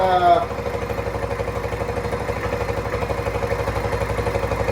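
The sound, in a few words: small motorcycle engine revving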